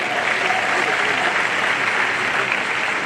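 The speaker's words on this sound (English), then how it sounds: "Let's give them a big round of applause again." An audience at a livestreamed event applauds, a dense, steady wash of many hands clapping that holds at full strength for the whole stretch.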